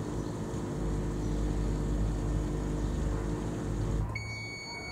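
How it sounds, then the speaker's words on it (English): A steady electronic beeping from a Blomberg LDV42221 integrated dishwasher starts near the end, clear and high, sitting over a constant low appliance hum. "I'm sure it does have a beeping noise."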